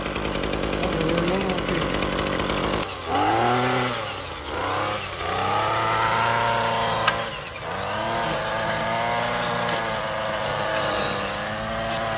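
A Ryobi gas-powered weed eater, a 2021 model costing $129, sputters and catches after a brief pull, then runs loudly and steadily close by, its small two-stroke engine rising and falling in pitch as it revs.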